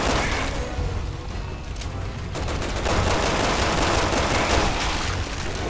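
Dense, continuous gunfire and bursts roar loudly throughout a battle in the Resident Evil 6 video game, with no clear single grenade blast standing out.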